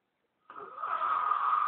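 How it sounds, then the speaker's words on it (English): A man asleep in a house at night snores in one long, steady, raspy breath that rises out of silence and holds close and fairly loud. "that snoring there"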